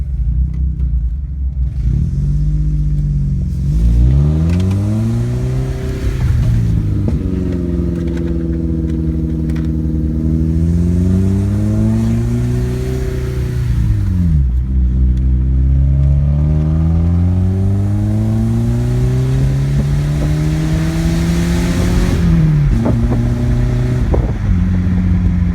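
A 4-cylinder BMW 318i Touring drives on a road, its engine rising and falling through several gear changes as it accelerates, loud and close from inside the car, with tire and road rumble beneath.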